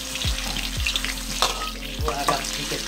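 Ginger frying in moderately hot vegetable oil makes a loud, close sizzle and crackle, with a few soft thumps and pan knocks across the short stretch.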